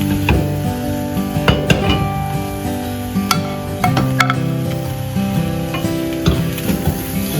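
Shrimp curry sizzling and simmering in a pan, with steady crackling and bubbling, occasional clinks and scrapes of a utensil against the pan, close and fairly loud with no talking.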